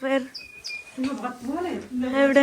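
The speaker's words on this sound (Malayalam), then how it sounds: "എന്താ കിളീന്റെ സൗണ്ട് കേൾക്കുന്നത്?" A small bird chirps in a village outdoors, brief high whistling calls heard faintly between stretches of close conversation in a voice.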